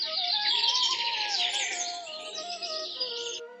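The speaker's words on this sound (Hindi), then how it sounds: "पक्षियों की चहचहाहट फिर से जंगल में सुनाई देने लगी थी।" Birds chirping in a forest after rain, a close cluster of bright, busy warbling and tweeting calls that sound alone and gradually thin out toward the end.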